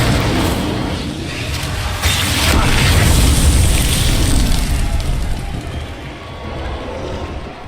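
Incendio fire spell in the Hogwarts Legacy video game erupting as a loud, sustained roaring blast with rumbling low booms, crackling fire and mechanical clatter, a dense wall of sound with voices mixed in.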